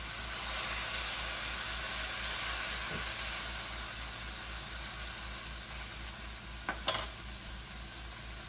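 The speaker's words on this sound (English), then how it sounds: "Then we fold it and fry it" Birria queso tacos filled with Mexican cheese and meat are folded and fried in a pan, a steady close sizzle that runs throughout, broken near the end by a couple of sharp utensil clinks.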